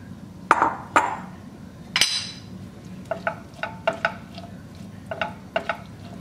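A spoon scrapes and clinks against a pan as peppers and onion are mixed into drained ground beef for sloppy joe filling, with sharp knocks and a run of quick rhythmic scrapes.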